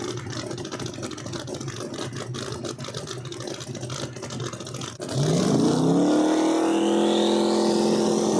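Drag race cars at a No Prep Kings street outlaws event in Epping, New Hampshire: a steady loud engine drone, then an abrupt, much louder high-revving launch with rising pitch that holds close and powerful to the end.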